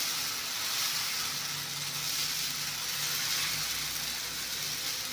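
Horse gram dosa batter sizzles steadily on a hot oiled tava, a constant close hiss with no breaks and no voices.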